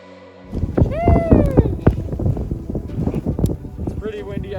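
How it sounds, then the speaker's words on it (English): Wind gusting at the top of a T-bar at Breckenridge ski resort, buffeting the microphone in loud, uneven bursts under a person talking. "It's pretty windy up here today."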